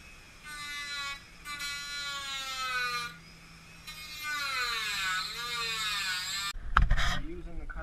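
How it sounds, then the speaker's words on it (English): A Dremel with a cutoff wheel whines at high pitch while cutting a billet grill on a K1500 truck, rising and falling in short bursts of steady tone as the cut proceeds. "Using the cutoff wheel with the Dremel, this is step one."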